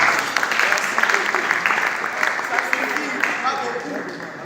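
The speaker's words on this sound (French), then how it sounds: "Est-ce que vous pouvez acclamer pour ça?" Comedy club audience applauds and cheers steadily, a dense wash of clapping held at an even level across the whole stretch, with some crowd voices mixed in.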